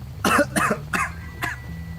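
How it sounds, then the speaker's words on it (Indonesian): Four separate coughs, close and fairly loud, come in quick succession over a low steady background hum during a live stream. "Jangan pada batuk."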